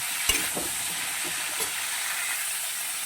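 Cauliflower frying in a pan with salt and a little turmeric for an aloo-matar phulkopir dalna, a steady close sizzle with a couple of brief stirring knocks early on, no voices.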